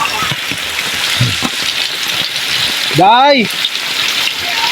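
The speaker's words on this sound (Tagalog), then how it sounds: "Kasi malakas ang ulan." Heavy rain pours down steadily as a constant dense hiss, with a brief spoken word and a short rising-falling voice call partway through.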